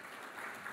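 A brief, fairly faint wash of audience applause at an education summit plenary session, even and continuous throughout.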